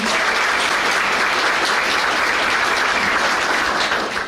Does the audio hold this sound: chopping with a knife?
no